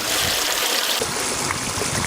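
Steady rushing and trickling water pours through a gold sluice box on a prospecting claim, a continuous broadband wash that holds constant for the whole stretch, close and fairly loud, with no voices.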